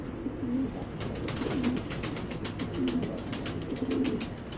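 A racing pigeon coos repeatedly, soft rolling calls close by at a steady pace, over faint background chatter and rustling in a loft.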